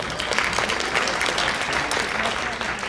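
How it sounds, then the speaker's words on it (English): An audience at a school PTO meeting gives a round of applause, dense continuous clapping held at an even level throughout, with no voices over it. "We'll give you a round of applause for that"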